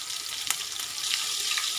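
Cumin seeds and green chili pieces tempered in hot oil for a peanut dahi kadhi, giving a steady close sizzle that swells slightly louder partway through, with one brief crackle.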